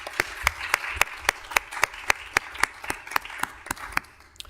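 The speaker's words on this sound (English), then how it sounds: "Let's give him a round of applause for the Officer of the Year" An audience at a city council meeting applauds an Officer of the Year award: a short burst of sparse, rhythmic clapping from a small crowd in a room, fairly close, fading slightly toward the end.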